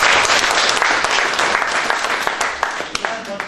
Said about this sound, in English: I would request all of you to give again a big applause